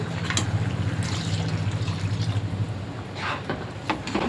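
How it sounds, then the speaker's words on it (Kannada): Water splashes and gurgles as it is poured into a pot of ground masala, a steady liquid rush with a few brief clinks near the end. "ಇದಕ್ಕೆ ನಾನು ಸ್ವಲ್ಪ ನೀರು ಹಾಕ್ತೀನಿ"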